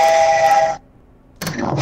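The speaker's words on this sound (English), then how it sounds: "why does this nigga have fucking train sounds in my ear" A sustained, loud train horn blares through an NBA 2K22 player's voice chat for about three-quarters of a second, then cuts out, leaving a brief hush before rough chat noise returns.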